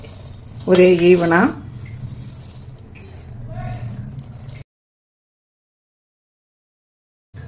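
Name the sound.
food being dry-roasted and stirred in a pan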